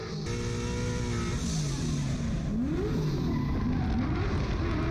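Vaughn Gittin Jr's drift car holds a loud, raspy engine note while drifting, its pitch swinging up and down as the throttle is worked over steady tire and road roar.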